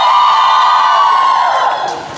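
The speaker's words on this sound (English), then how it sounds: "Let me hear how loud you can cheer for yourselves." A crowd of girls cheering loudly at a Mumbai suburban event, a dense sustained roar of shouts and whoops that fades slightly toward the end.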